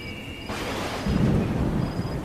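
Heavy rain pours at night in a dense, roaring wash that swells louder midway, with a deep rumble underneath and no voices.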